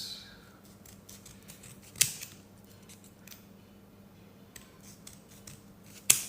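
Quiet, close snipping of scissors, with small clicks and two sharper snaps standing out against a soft background.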